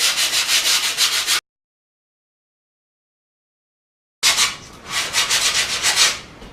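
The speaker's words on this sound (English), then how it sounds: "I'll start sanding down the edges to make sure that the grip tape is stuck right good" Rapid rhythmic sanding strokes along skateboard grip tape edges, a gritty scraping back and forth up close, stopping for a few seconds of silence before resuming.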